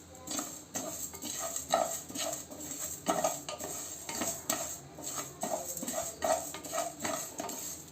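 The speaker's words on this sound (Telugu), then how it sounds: "జీలకర్ర శనగపప్పు మెంతులు ఇవి కొంచెం మంచిగా వేగాలి" Cumin, chana dal and fenugreek seeds fry in a pan with steady faint sizzling, broken by repeated clinks and scrapes of a spoon stirring against the metal, close and continuous throughout.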